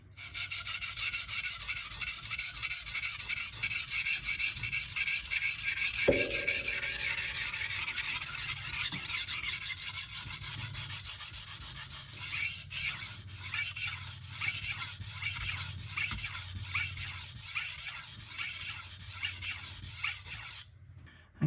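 A chef knife is stroked steadily back and forth across a Naniwa whetstone, giving a continuous gritty rasping scrape. The strokes come in a regular rhythm, close and clear, with brief pauses toward the end.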